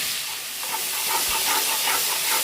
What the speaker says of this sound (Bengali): এবার দিয়ে দেবো কুচি করে রাখা পেঁয়াজগুলো